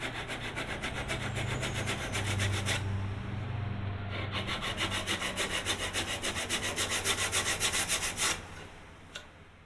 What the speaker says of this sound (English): You start using sanding blocks and actually sanding wood